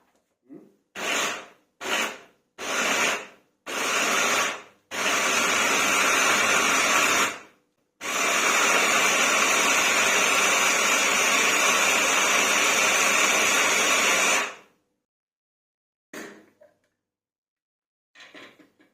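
An 1100 W Fresh hand blender mincing meat runs loud and close in several short bursts, then in two long continuous stretches with a steady whirring motor tone, and goes quiet at the end.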